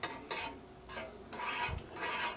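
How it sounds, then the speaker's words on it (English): A spoon scrapes and swishes through a beaten egg in a bowl in a few uneven rasping strokes, close by with no talking. "Stir it in it. Stir it around good."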